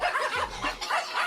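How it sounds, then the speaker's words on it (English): A dog noise sound effect triggered during a talk show, giving several short yips and barks in quick succession over a steady background, fairly close and moderate in level. "You played the dog noise."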